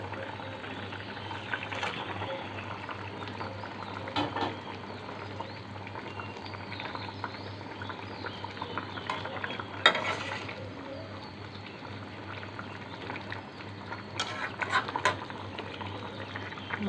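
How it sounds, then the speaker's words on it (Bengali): Fried tatkini fish simmers with boiled jackfruit seeds in a pan, making a soft, continuous bubbling and sizzling with occasional sharper clinks and scrapes of stirring, with no talking. "মাছগুলো দিয়ে আমি আরও কিছুক্ষণ রান্না করে নেব"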